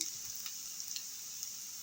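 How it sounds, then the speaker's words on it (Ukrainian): Soft, steady sizzling of onion frying in sunflower oil in a pan, with faint ticks and crackles over a constant hiss. "На сковорідку наливаю соняшникову олію і відправляю спочатку цибульку."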